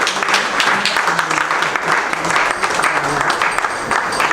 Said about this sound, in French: Applaudissez sacré-cordiennement.